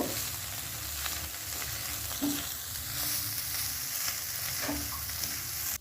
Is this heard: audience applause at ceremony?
no